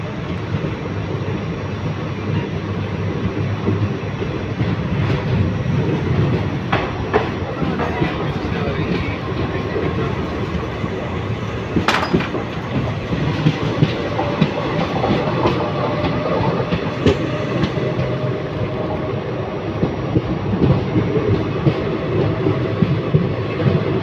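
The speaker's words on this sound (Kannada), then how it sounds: "ನಮ್ಮ train 16541 Yeshwanthpur to Pandharpur train" Express train 16541 from Yeshwanthpur to Pandharpur rolling along the rails, a loud steady roar heard from on board with rhythmic clickety-clack of wheels over joints and a few sharp metallic knocks.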